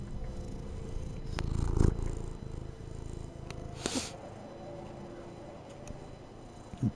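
A cat purring up close in a soft, continuous low rumble that swells briefly near the start, with a few faint ticks and clicks over it.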